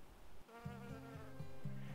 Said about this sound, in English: There's an almost cloud of insects all over them, of all different shapes and sizes.